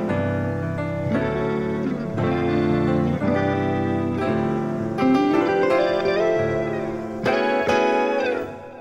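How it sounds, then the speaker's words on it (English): Hayata guitar strumming chords alongside a Keyscape piano in Logic, lush effected tones with chorus-like shimmer and slight distortion, chord changes roughly every second, played without any talking. "Let's hear the guitar with the piano."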